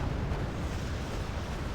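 Bombs explode in the war video game Wargame Red Dragon, a dense, continuous rumbling roar of blasts, loud and low, with no clear pauses.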